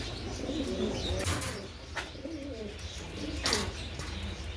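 Racing pigeons, a Krimbar racer hen among them, coo repeatedly in a loft, soft throaty calls rising and falling at close range with a few brief chirps and wing rustles.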